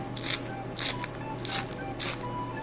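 Kitchen scissors snip through folded food, four crisp cuts spaced about half a second apart, close and clear against a low background hum, with no talk.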